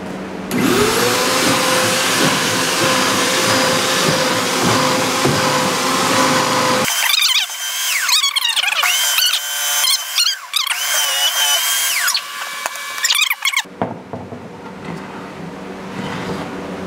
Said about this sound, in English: You're drilling pocket holes.